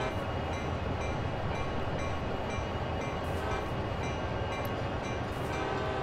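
Train Sim World video game train running along track while diverging onto another track at a steady low speed, a continuous loud rumble of wheels and engine with occasional higher squeals or hiss, no talking.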